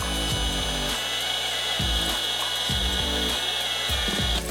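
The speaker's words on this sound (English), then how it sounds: "we can use a heat gun to shrink down that wire cover" Heat gun shrinking heat-shrink tubing over a wire, a loud continuous blowing whir with a high steady whine, interrupted by several brief thumps and shifts as it is handled.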